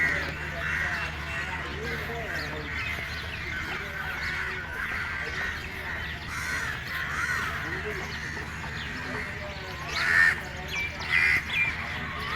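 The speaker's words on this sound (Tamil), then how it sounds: "அந்த குருவி சவுண்டு எல்லாமே ரொம்ப அழகாக இருந்துச்சு கேட்குறதுக்கே." Outdoor birdsong with scattered chirps and a few louder calls near the end, set against a steady background hum of ambient noise.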